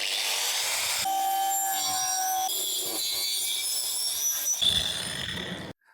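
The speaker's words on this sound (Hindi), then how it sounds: "तो आप एंगल ग्राइंडर ऑन करते हैं और जिस डायरेक्शन में हमें कटिंग करनी है उस हिसाब से इसकी कटिंग करते हैं।" An angle grinder cuts a marked piece for a Renault Triber camper van conversion, giving a loud, sustained whine that shifts in pitch as the blade bites, then stops abruptly near the end.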